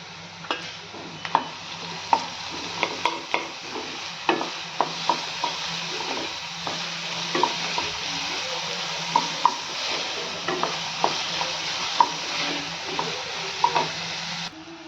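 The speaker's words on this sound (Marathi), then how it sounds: "कांदा ही छान मिनिटभर परतून घेऊयात" Chopped onion sautés in a pan with capsicum for Mumbai-style pav bhaji. A constant moderate sizzle runs throughout, punctuated by regular clicks and taps of a spatula stirring against the metal.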